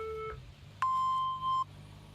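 A workout interval timer gives a short pair of soft beeps followed by one long, steady electronic tone lasting under a second, clear and close against a quiet room.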